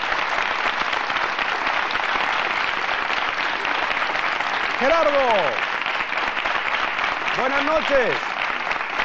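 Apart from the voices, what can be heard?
studio audience applause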